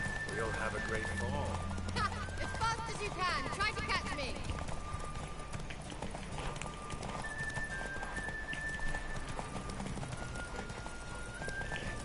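A horse galloping in a PS4 video game race, its hoofbeats a quick, rhythmic clip-clop under game music and effects, fairly faint, with someone talking over much of it.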